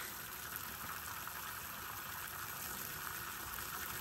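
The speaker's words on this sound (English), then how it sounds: "I am filling up water troughs" Water pours steadily into a livestock water trough, a quiet, continuous rushing fill with a faint tonal hum behind it and no voices.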